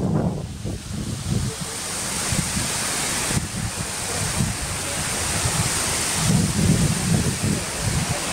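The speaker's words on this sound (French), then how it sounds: "C'est la cascade." Steady, loud rushing roar of a large waterfall, the Ouzoud Falls in Morocco, fills the scene continuously, broad and unbroken, with no voices.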